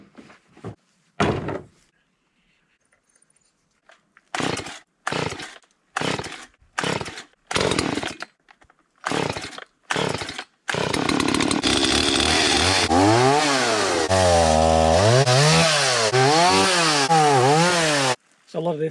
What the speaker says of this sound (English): Let's get the chainsaw out and we'll get some firewood.